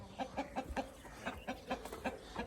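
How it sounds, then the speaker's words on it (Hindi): Hens and roosters cluck in a steady rhythmic series of short calls, close and moderately loud, as the flock heads back inside after grazing on a farm. "मुर्गियाँ भी सारी अंदर पहुँच चुकी हैं।"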